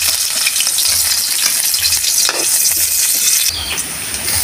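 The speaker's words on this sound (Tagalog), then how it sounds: "magigisa na tayo. Luya at bawang." Ginger, garlic and onion are sautéed in a hot pan, giving a loud, steady, close sizzle broken by stirring scrapes throughout.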